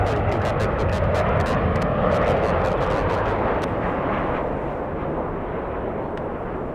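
A jet airliner taking off from runway 24 Left at Los Angeles International Airport, a loud, sustained broadband engine roar that rumbles steadily with crackling bursts early on, then slowly eases as the aircraft climbs away.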